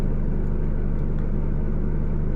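Car engine idling just after being started for a driving lesson, a steady close low rumble with an even rhythmic pulse and no voices.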